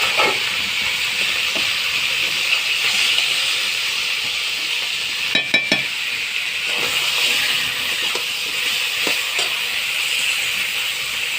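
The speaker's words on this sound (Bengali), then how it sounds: "এবার আমি কাঁকরোলগুলো দিয়ে দেবো কড়াইতে" Pieces of teasel gourd frying in hot oil in a wok, giving a steady, loud sizzling hiss that runs throughout, with a few brief clatters partway through.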